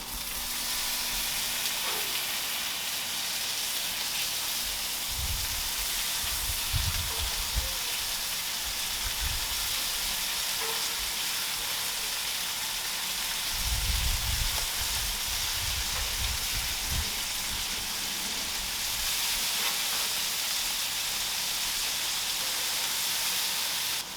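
Bacon sizzling on an Evo flat top grill, a steady close hiss and crackle running throughout with occasional low thumps.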